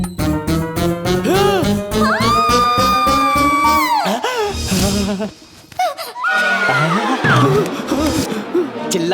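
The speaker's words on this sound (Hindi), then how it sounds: "चिल्लाने की आवाज सुनी?" Loud, drawn-out screaming from a voice rises and holds, breaks off briefly, then resumes with more shouting and wailing.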